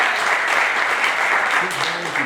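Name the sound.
audience applause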